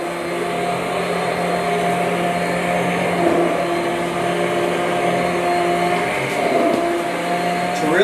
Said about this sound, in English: I'm going to use the hand mixer to start getting everything incorporated